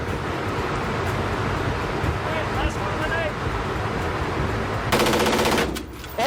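A full-auto AR-15 rifle firing, a dense rapid stream of shots that runs loud throughout, with a harsher, brighter burst near the end and no voices.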